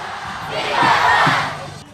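A large crowd at the Wagah border ceremony between Pakistan and India roars in a swelling, sustained shout that peaks and then fades slightly.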